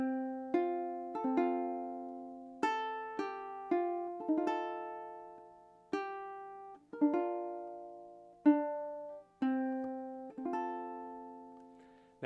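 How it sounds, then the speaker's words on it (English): Ukulele plucking the opening phrase of Amazing Grace, single clear notes ringing out and decaying one after another at a slow, even hymn pace, solo and close. "So now the first little section of the song should sound something like this when played through."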